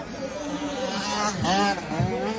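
A single motocross bike arrives on the sand track at the French Elite championship round in Bitche, its engine rising in pitch and loudness as it approaches and revs, then easing off.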